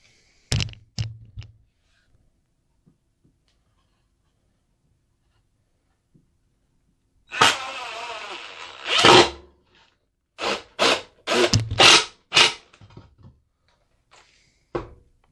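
Screws driven with a power driver to join two wooden roof boards of a birdhouse: a few sharp taps, then a sustained close whir followed by a quick series of short bursts and a final knock, with no talking.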